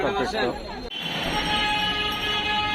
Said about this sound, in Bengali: মেট্রো রেল বাংলাদেশ সচিবালয়ের সামনে দিয়ে এখন উঠব